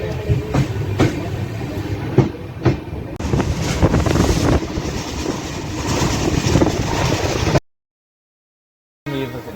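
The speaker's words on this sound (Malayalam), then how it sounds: "സോ ഈ ഒരു ട്രെയിനിൻ്റെ ക്രോസിങ്ങിന് വേണ്ടിയിട്ടാണ് നമ്മൾ വെയിറ്റ് ചെയ്യുന്നത്." A train passes on a crossing at Asnoti station on the Konkan line, a loud, close rush of wheels and rattling wagons with rhythmic clunks and wind buffeting, followed by a sudden silence.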